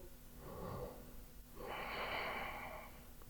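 Slow, audible breathing during an Ashtanga yoga pose held for five breaths, heard close and quiet. A soft breath comes first, then a longer, louder exhale after a short pause.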